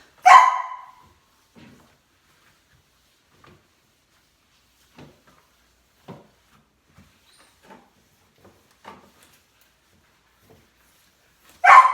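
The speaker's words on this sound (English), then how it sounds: "Sorry about the barking dog." A dog barks sharply twice, once at the start and once at the end, with quiet clicks and faint knocks in between.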